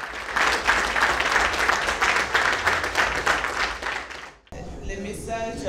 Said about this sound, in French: Ainsi, Marie-Laure Essang, seule candidate, est désignée par acclamation en Assemblée générale constitutive, présidente de la CAP pour un mandat de 5 ans.